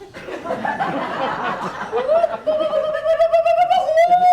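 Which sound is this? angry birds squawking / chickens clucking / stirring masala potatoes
angry birds squawking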